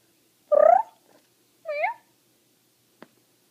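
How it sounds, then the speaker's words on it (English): A pet cat gives two distinct meows close by in a quiet room, followed by a faint short click, with no talking. "This is what was meowing in the background the entire time."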